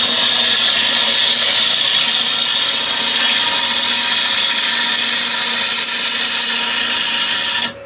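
A wood-turning gouge drags its tip across the outside edge of a scrap-wood bowl spinning on a lathe in a pull cut, giving a steady, loud, continuous hiss and scrape that holds unbroken for several seconds before cutting off.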